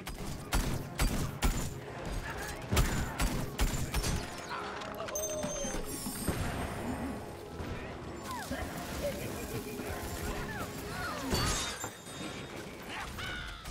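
An exploding barrel in Plants vs Zombies Garden Warfare 2: sharp blasts and shattering crashes amid busy game combat, with the densest bursts early and another near the end, while a person talks throughout.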